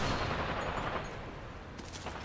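Gunfire in Apex Legends, a dense, fairly quiet rattle of rapid shots blending into a continuous wash, with a few sharper cracks near the end.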